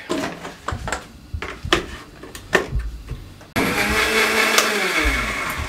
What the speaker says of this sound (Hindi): हमने फिर छोटे मिक्सी के जार में इस तरीके से चटनी को तैयार कर लिया